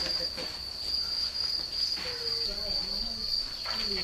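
Crickets kept on a cricket farm chirp in a steady, shrill high drone that carries on throughout, with soft murmuring voices and rustling underneath.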